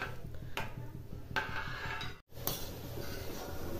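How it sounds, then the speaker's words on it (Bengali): A spoon scraping and stirring coconut and milk filling for pithe puli in a pan over a low flame, soft repeated scrapes and light metallic clinks with low background hiss and no talking. "এভাবে কাছে দাঁড়িয়ে থেকে নাড়াচাড়া করতে হবে"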